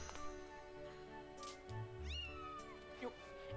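Cat creatures in the Skyward Sword video game meow in a couple of rising, whiny calls over steady game music and background tones.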